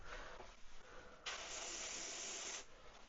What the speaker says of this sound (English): make sure that it sprays properly